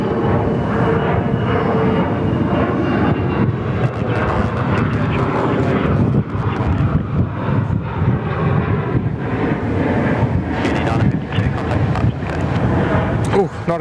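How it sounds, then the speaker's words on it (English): A Fokker 70 airliner climbs out from Perth Airport on a flight to Leonora, its steady engine roar filling the whole stretch with wind buffeting the microphone, while people talk over it throughout. "the Perth to Leonora flight there, the Unity 952, the Fokker 70 out the door"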